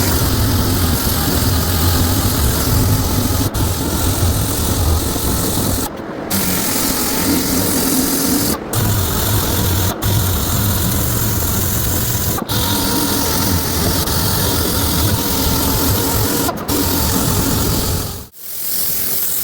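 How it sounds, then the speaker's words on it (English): A dual action sander with 80 grit paper smooths car body filler on a C3 Corvette, a loud, steady, close-up whir that runs almost continuously with a few brief dropouts as the tool lifts off. "next we're gonna take 80 grit on our DA sander, dual action, and we're going to sand these spots down."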